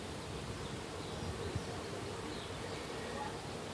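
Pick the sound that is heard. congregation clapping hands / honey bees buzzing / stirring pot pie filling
honey bees buzzing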